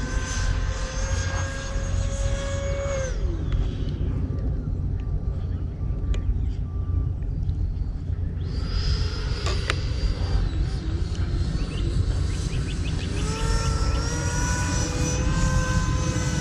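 A Freewing F-22 90mm electric ducted-fan RC jet plane flying, with a loud, steady whine of the ducted fan rising and falling in pitch as the aircraft maneuvers overhead, its rumble broadband throughout.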